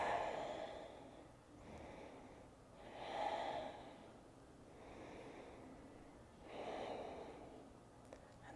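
Slow, deep breathing during a yoga pose: long inhales and exhales swell and fade in a steady rhythm about every three to four seconds, soft and close, with no talking.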